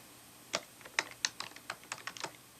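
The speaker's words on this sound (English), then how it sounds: "As you can see, I'm typing away with an external keyboard." Keys clatter on the ASUS Eee Pad Transformer Prime keyboard dock in a quick, uneven run of about a dozen crisp, close clicks, with no voices.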